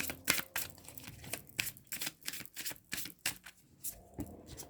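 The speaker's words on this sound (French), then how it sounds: "Et on va prendre une dernière carte." A tarot card drawn from the deck during a reading, a quick run of crisp papery shuffles and slaps of cards, close and fairly faint, with no speech.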